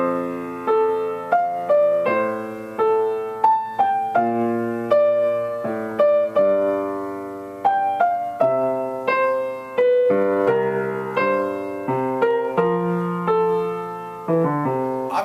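Melody on piano reduced to only its top and bottom voices, a steady stream of clearly struck notes in a flowing rhythm over about fifteen seconds, close and moderately loud, with no talking.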